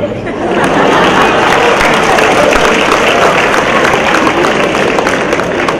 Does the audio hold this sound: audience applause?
yes